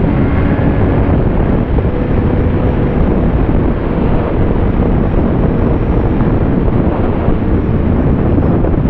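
Strong wind buffets the microphone outdoors on a breezy day, a loud continuous roar with no letup and no other sound coming through.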